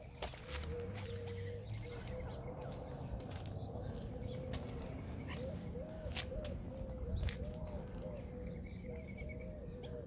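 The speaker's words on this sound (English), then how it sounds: "ring necked doves" Ring-necked doves cooing softly outdoors: repeated low, rolling coos in a steady rhythm over a continuous background hum, with occasional faint chirps and clicks.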